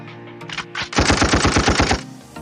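A rapid burst of synthetic gunfire from a V8 Plus soundcard's shoot effect button, about ten sharp shots in quick succession lasting around a second, loud and close, with no talking.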